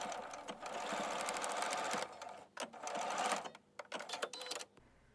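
Close, steady whirring from a sewing machine stitching across a button placket in the fold of a jacket hem, running in several bursts broken by brief pauses, without talk.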